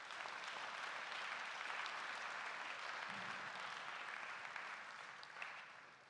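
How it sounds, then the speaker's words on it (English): An audience at a school assembly applauds steadily for several seconds, a dense, even clapping that tapers slightly at the end with no voices over it. "Please join me in giving them a round of applause."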